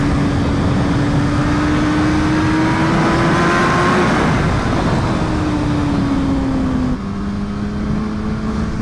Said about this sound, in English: this bike picks up so fast that I don't even know how fast